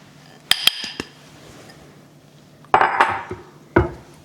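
Flour, butter and powdered sugar are mixed in a bowl for lemon bars. A few sharp clinks and knocks of the utensil against the bowl sound close up, separated by quiet pauses.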